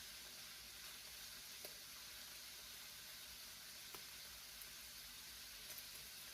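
Food sizzles steadily in a hot wok while a fork scrapes and stirs it, a faint continuous frying hiss broken by a few sharp clicks of metal against the pan.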